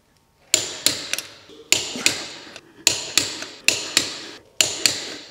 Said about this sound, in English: the click means you're at the proper torque